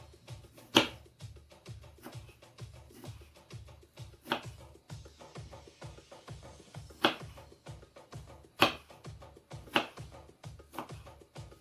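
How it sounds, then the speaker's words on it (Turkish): Tomatoes being diced into cubes with a knife on a cutting board, a quick run of regular soft taps with a few sharper, louder knocks spaced between them, close and steady with no talk. "İndi isə əzizlərim, pomidorlarımızı kubik şəklində eyni ilə soğanı doğradığımız kimi doğrayırıq."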